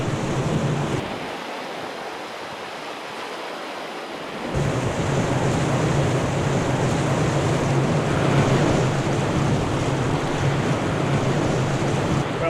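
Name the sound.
canoe running a fast whitewater river rapid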